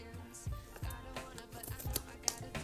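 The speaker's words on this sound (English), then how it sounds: "Let's go ahead and cut open this package really quick." Scissors snip through the plastic packaging of a Fumoto oil drain valve, several short crisp cuts and crinkles spaced irregularly, close and fairly quiet.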